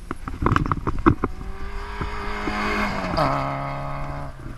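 Rally cars brake late and power through a chicane at a rally event, engines rising and falling as they pass close by, with brief tyre noise under a loud, droning motor note that shifts pitch midway.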